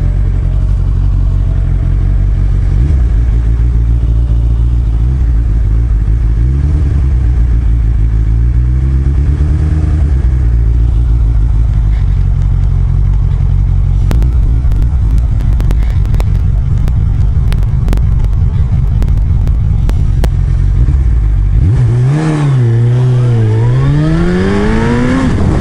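A German car's engine drones loudly and steadily up close, its pitch rising and falling as it is driven and revved, ending in a sharp rev climb with no voices.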